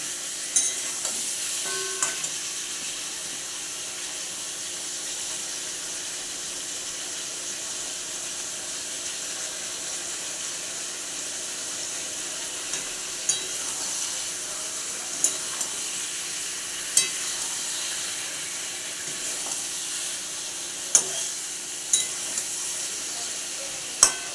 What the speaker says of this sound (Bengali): চিকেন আমার হালকা ভাজা হয়েছে এবার এর মধ্যে দিয়ে দেবো দুটো কেটে রাখা টমেটো